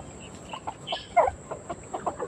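Chickens cluck in a backyard coop, a few short close clucks and calls scattered over a low rustling background, with no talking.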